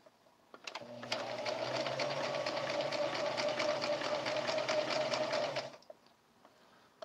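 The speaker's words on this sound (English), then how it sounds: "we're going to sew this together" A sewing machine stitches fabric pieces together in one sustained run of about five seconds, a fast rhythmic whirring chatter with a steady hum beneath, starting after a few clicks and stopping abruptly, fairly quiet and close.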